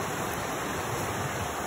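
Creek water flowing steadily outdoors near a rock house, a constant broadband rush that stays even and close throughout, with no talking.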